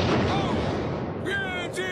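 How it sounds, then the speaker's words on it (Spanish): A cartoon rocket launching on The Simpsons, a loud sustained roaring blast that fills the whole moment, with brief whistling tones and voices cutting in near the end. "¡Papá, están disparando el cohete!"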